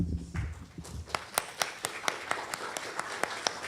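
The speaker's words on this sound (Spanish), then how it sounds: "Tan poquitos aplausos" Sparse, scattered clapping from a small audience at a Lima founding-anniversary event, a handful of sharp hand claps rising after a quiet start and continuing unevenly, fairly distant with low room noise underneath.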